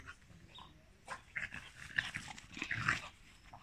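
A French bulldog, a spitz and a dachshund playing together indoors, giving faint soft growls, yips and snuffling in short irregular bursts, with no talk.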